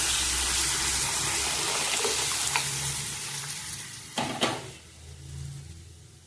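Pre-cooked dal going into a sizzling pan: a strong frying hiss gives way to a wet splash and a couple of clunks of the utensil, after which the sizzle turns quieter and more muted, with no talking.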